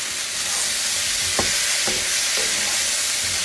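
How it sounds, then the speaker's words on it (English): Zucchini, mushroom and onion sizzle steadily in a pan, a soft continuous frying hiss with a few brief clinks or stirring knocks partway through, no talking. "We're going to saute this"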